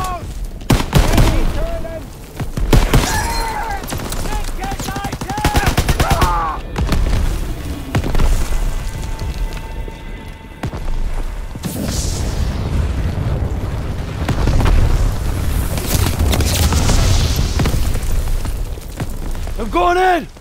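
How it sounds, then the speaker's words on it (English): Artillery explosions in the video game Call of Duty WW2, set on D-Day: heavy booms and rolling blasts mixed with constant gunfire, loud and continuous, while soldiers shout throughout. "That artillery's killing us!"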